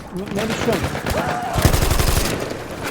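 Bursts of machine-gun fire in the Battlefield 1 video game, a rapid rattling volley that grows louder toward the end while a voice talks over it.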